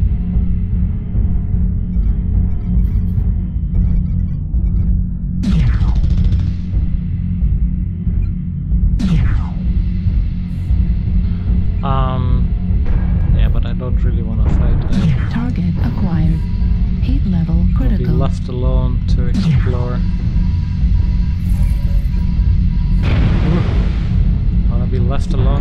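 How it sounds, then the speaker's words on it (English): Missile impacts and explosions in the game Incursion, heavy rumbling blasts over a constant loud low drone, with several sharp swooping bursts spread across the stretch and a voice talking intermittently. "Incoming missile."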